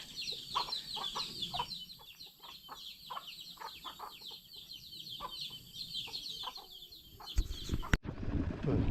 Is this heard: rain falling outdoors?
no